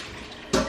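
Water rushes into a measuring cup while spaghetti is being prepared, a sudden loud pour that starts after a quiet stretch and lasts only a moment.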